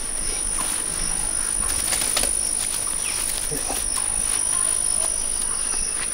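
A pet pigeon, a Kalduma fancy breed, is let go and flaps its wings amid steady outdoor background noise and a constant high whine, with soft fluttering bursts and no clear talk.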